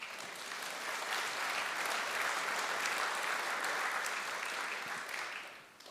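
An audience bursts into sustained applause at an opening celebration, a dense even wash of many hands clapping that holds steady for several seconds before tapering off at the end.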